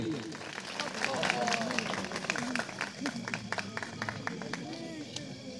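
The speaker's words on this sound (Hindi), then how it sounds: "जोरदार तालियां हमारे गोल्डी भाई के लिए।" An audience at the Minjgran Ramlila awards show in 2024 claps for an honoree, sharp individual claps scattered unevenly over several seconds beneath people talking in the background.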